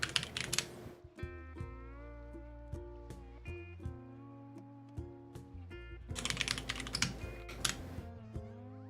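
Typing on a Hu Tao themed mechanical computer keyboard, close and clear, with bursts of rapid clacking at the start and end and sparser individual keystrokes between, over a low background hum.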